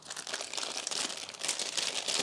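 A small plastic bag of accessories for a 3D printer toolhead is handled, giving a close, continuous crinkling rustle in uneven bursts with no talk.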